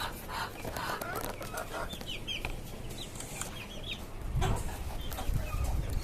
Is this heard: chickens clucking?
yes